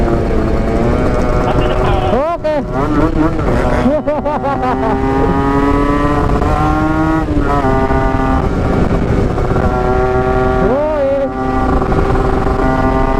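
A motorcycle engine revs hard and accelerates along a road on a fast run, loud and close throughout, with gear-change dips and rising whine; brief talk is heard over it.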